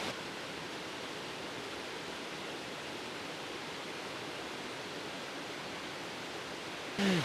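A small creek flowing through a little canyon makes a steady, even rush of water, a constant soft hiss that holds unchanged for about seven seconds with no voices.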